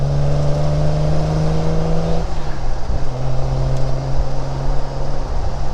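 A 1971 Triumph Vitesse engine, heard from inside the open-top car on a sprint, drones loud and steady, then drops in pitch around two seconds in as the driver makes a heel-and-toe downshift, before settling into a lower, continuous hum.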